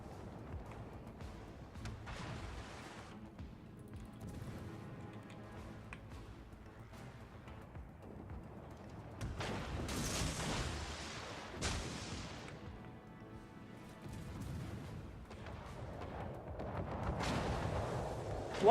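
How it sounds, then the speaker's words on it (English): Naval artillery from ships in World of Warships, a Halloween special battle, booming in repeated heavy blasts with a few sharp louder shots around the middle and end over a constant low game rumble. "Why are they all firing at me?"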